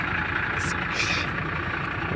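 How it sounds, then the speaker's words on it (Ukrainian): LS tractor with a PSK plough working heavy, dry soil, its engine droning steadily at a moderate distance, with some high rattling over the top. "Іноді, звісно, припинає тракторець"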